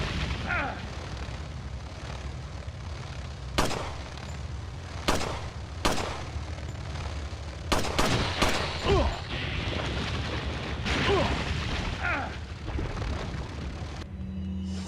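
Shotgun blasts in Resident Evil 4, several sharp separate reports spaced irregularly, some fired in quick pairs, over a low rumbling game background.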